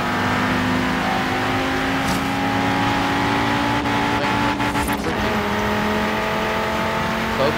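An Audi car engine revs hard in third gear, a loud steady drone that holds through the stretch, with brief tire and mechanical noises partway through.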